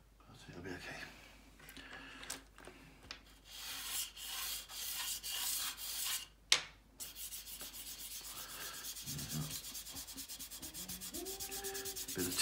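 Soft, close scratchy rubbing of pastel pencil on paper in uneven strokes, with a brief voice and faint singing in the background.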